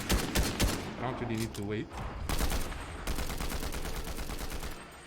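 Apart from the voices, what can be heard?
gunfire from the video game Fortnite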